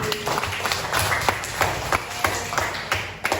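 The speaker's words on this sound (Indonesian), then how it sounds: "Tepuk tangan untuk Feli." A school class claps for a student in a lesson: fairly faint, evenly spaced claps over steady room noise.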